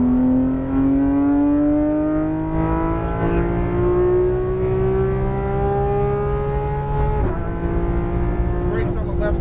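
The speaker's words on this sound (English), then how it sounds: "Accelerate to the exit cone," A Porsche GT3 RS accelerating at full power on a track, its engine note rising steadily for several seconds, then a brief dip as it shifts up and keeps pulling, loud and close from inside the car with a voice talking over it.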